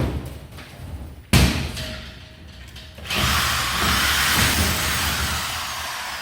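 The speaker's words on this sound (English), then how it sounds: "So one guy drilling, one guy putting in the rivet." A power drill whirs briefly into boards, then a sharp bang, followed by a sustained loud hiss of an air-powered rivet gun, close and noisy.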